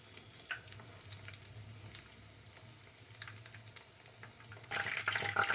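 Stuffed mushrooms deep frying in hot oil, a soft, steady bubbling hiss at low level that swells into a louder crackle over the last second.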